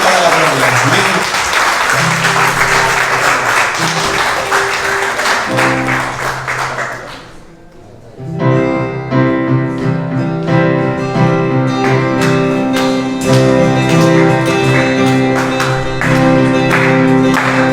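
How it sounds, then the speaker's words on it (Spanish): Church congregation applauding at a Sunday service, loud sustained clapping that fades around midway, then gives way to music with more clapping over it. "Dale un fuerte aplauso al Señor. Un fuerte aplauso."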